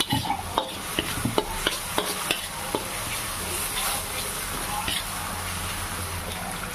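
A curry being stirred in a hot pan as a spoonful of chili powder is mixed in: a constant sizzle punctuated by a quick series of sharp spoon scrapes, then a steadier bubbling fry.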